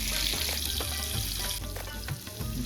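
Spicy chicken fries on clay roof tiles in a village, giving a dense, steady sizzle and crackle that stays loud and close throughout, with no voices.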